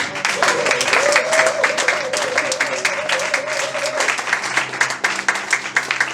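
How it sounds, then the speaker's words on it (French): A church congregation applauds loudly for the Lord Jesus at a gospel service, full steady clapping throughout with a sustained voice sounding over the first part. "acclame très fort pour le Seigneur Jésus"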